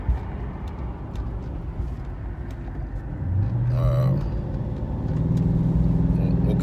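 A 1996 Chevrolet Impala SS running after a no-start repair, its engine humming steadily at a moderate distance, with a low rumble that swells slightly toward the end.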